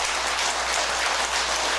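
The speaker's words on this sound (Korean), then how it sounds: "박수를 한번 보내주셔야 돼요." Steady, dense applause from an audience at a Sunday Buddhist dharma service at the Jeonbuk Buddhist Hall, sustained and even for the whole stretch with no talking.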